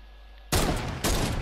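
Two sharp sniper rifle shots in a shooting video game, about half a second apart, loud and close, each a sudden broad crack followed by a short ringing tail, with no talking.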